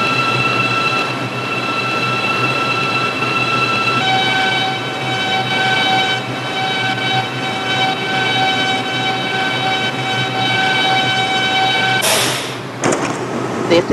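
An R142 subway train on the 6 line runs through a New York tunnel, a loud steady rumble and whine with tonal motor hum, ending in a sharp burst of noise and clatter.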